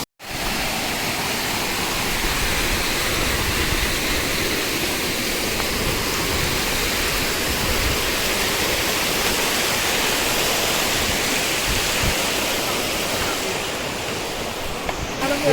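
Water near Guna Cave rushes and pours in a continuous, loud, broadband roar that holds steady for about fifteen seconds, with no clear speech over it.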